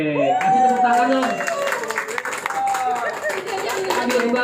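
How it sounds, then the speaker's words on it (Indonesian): Clapping from a group at a firefighter training session, a spread of quick hand claps sounding under a voice as he continues talking nearby. "kasih tepuk tangan dong"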